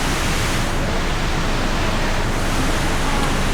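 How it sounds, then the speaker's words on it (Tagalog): Kathu waterfall in Phuket, Thailand, with water rushing as a steady, dense roar that stays close and loud throughout, no pauses or changes. "Waterfall? Waterfall?"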